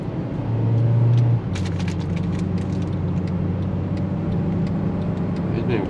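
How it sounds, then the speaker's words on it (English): A small 4-cylinder Honda Fit moves through traffic with its air conditioning running, giving a steady low engine hum and road noise inside the cabin, with a brief louder swell near the start. "I don't have any power to take off in this little 4-cylinder Honda Fit with the AC going"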